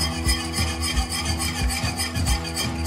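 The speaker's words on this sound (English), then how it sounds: "Keep stirring this till it's thick and bubbly." Banana pie filling is stirred in a pot on the stove, the spoon scraping the pot bottom in a quick, steady rhythm of rubbing strokes, close and continuous without speech.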